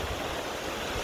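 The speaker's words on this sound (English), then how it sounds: "See the waterfall and that behind me." A waterfall in Scotland roars as a steady broadband rush of falling water, loud and continuous, with no voices.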